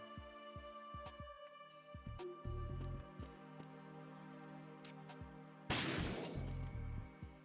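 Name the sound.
mirror glass shattering in video game Metal Gear Solid 2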